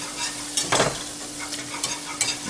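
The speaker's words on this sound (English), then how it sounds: "Now that you have the flour introduced into the oil, you want to keep it moving." Flour is whisked into hot oil for a roux. Steady close sizzling is punctuated by several quick scraping whisk strokes, with no talk.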